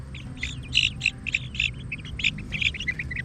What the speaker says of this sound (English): Okay, and here they are. My 6 baby silky chicks.